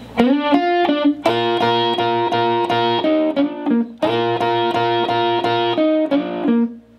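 Overdriven electric guitar playing the opening of the first solo of a song, quick bright double-stop licks in repeated bursts with short pauses, close and loud with no voices.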